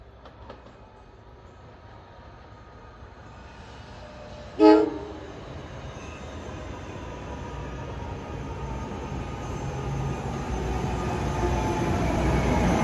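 A Hoboken–Dover Arrow MU commuter train approaches Mountain Station on an autumn evening, one short horn blast sounding mid-way over a steadily building rumble of the train drawing closer.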